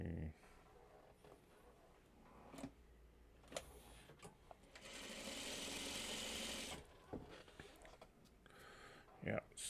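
A sewing machine stitching quilt block pieces: a steady whirring run of about two seconds, close and moderate, with soft handling clicks and fabric rustles before and after.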